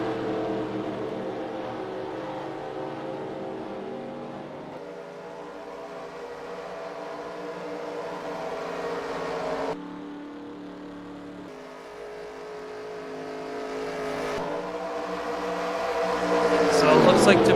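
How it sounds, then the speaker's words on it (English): Race cars in an eNASCAR Heat Daytona 500 race roaring around after their pit stops, a continuous loud engine drone with shifting pitch that swells near the end, with commentary talking over it. "here comes the first group of cars that made pit stops"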